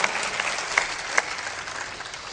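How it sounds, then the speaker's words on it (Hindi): An audience at a devotional discourse gives loud, sustained applause, a dense crowd of hands clapping with a few sharp claps standing out near the front. "जोरदार ताली भी बजाना चाहिए।"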